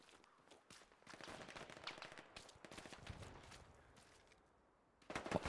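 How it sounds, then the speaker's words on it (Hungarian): Gunfire in the World War II shooter Hell Let Loose: bursts of rapid shots and scattered single cracks go on throughout, some distant and some closer, with a louder volley right at the end. "Hallom a lövést, csak nem látom még,"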